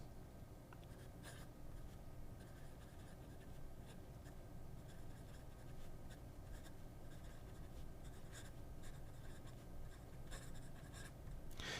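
Delta Napoli fountain pen with a medium nib writing on paper, a faint, steady scratching with quick stroke bursts and lifts, close and quiet with no talking.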